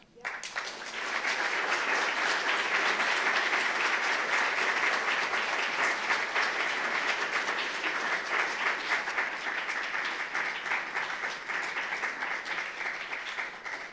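An audience at a summer forum talk about poet Mary Oliver claps for a speaker, with dense, sustained applause that starts abruptly, holds loud and even for over ten seconds, then begins to thin.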